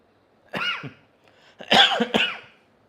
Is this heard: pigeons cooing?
no